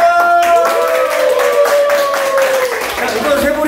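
Scattered audience clapping at a percussion contest during the Ulsan Soeburi Festival, with sharp hand claps breaking through under a loud, sustained voice or tone that carries across the whole stretch.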